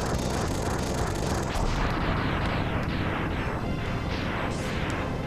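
Fire ability attack in Mega Man X, a continuous loud roaring, crackling blast with repeated bursting booms layered over game sounds for several seconds.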